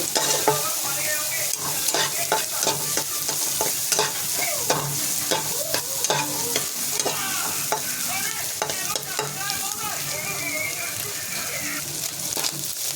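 Food frying in oil with turmeric, stirred steadily in a pan: a continuous close sizzle with repeated scraping stir strokes throughout, no talking.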